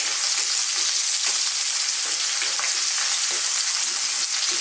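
Onion sizzles and crackles loudly in a hot pan while sautéing for ginisang upo with shrimp, a dense continuous hiss with faint stirring scrapes, close up and with no talking.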